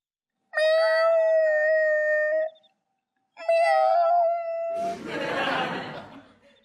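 A man imitates a cat, giving two long, drawn-out nasal meows with a pause between them, loud and close, followed by a burst of breathy laughter.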